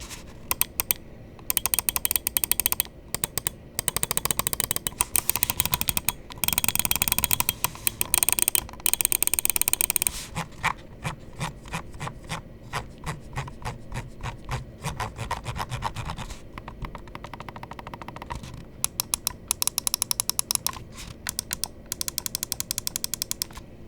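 Logitech G Pro X Superlight 2c gaming mouse clicked repeatedly up close, sharp dry ticks in rapid bursts and steady runs, with faint scraping rub between clicks and no talking.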